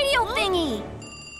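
A radio communicator ringing in a children's cartoon about reporting a fire: a bright, warbling electronic ring with sweeping, jingling tones, loud and close, fading into a faint steady hum.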